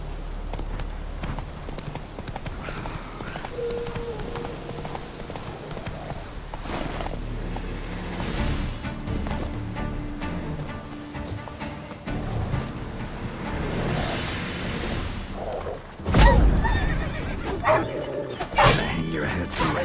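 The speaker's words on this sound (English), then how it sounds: "Run, Roach." Horse hooves clip-clop in the video game Witcher 3 under game music and ambience, with a dog barking and whimpering nearby and a sharp louder burst near the end.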